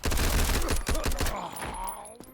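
Rapid RPK machine gun fire in the shooter game Road to Vostok sounds as a dense, loud burst of shots that fades into a ringing echo tail, with no talking over it.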